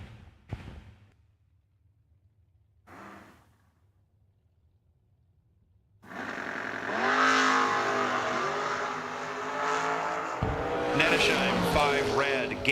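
Drag race cars, one of them a Mustang, launch down a drag strip. A few brief bumps and quiet stretches come first, then a loud engine roar builds and stays strong, with a voice talking over it.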